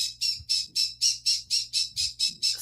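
A brightly colored pet bird squawks loudly and repeatedly indoors, about ten harsh calls in steady rhythm, with a low hum underneath and no talking.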